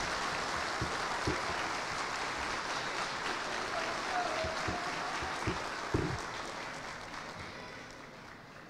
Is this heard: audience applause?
yes